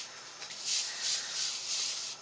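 An ink pad tapped repeatedly onto paper during a blend and spritz stamping craft, giving four soft, evenly spaced dabbing pats, quiet and close, with no talking.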